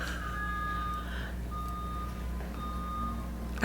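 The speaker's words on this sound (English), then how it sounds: "Do you hear the garbage truck?" A garbage truck reverses outside, its backup alarm sounding a few evenly spaced beeps over a low engine drone, heard faintly from indoors.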